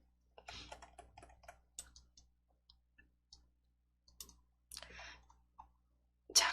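Quiet, sparse computer mouse clicks while code blocks are copied and pasted, single and double clicks scattered in small bursts against near silence, one louder click at the end.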